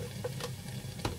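Rendang chili paste being stirred in a pan sizzles and fries softly, with a few brief scraping strokes of the spoon over a steady hiss.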